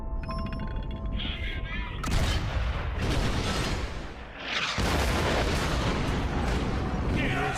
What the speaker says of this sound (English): Precision cannon firing enabled Freddy and his regiment to reach the rear line unharmed